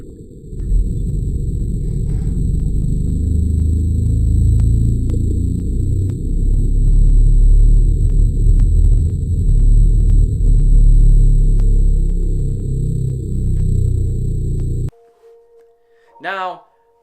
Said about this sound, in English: let me present to you some iceberg sounds that were recorded by the same kind of microphones that recorded the bloops